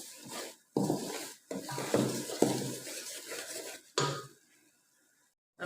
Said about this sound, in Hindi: तो इस स्टेज पे हम चमचा बराबर चलाते रहेंगे, क्योंकि अगर चमचा रोक देंगे तो जो सूजी है वो जलना शुरू हो जाएगी।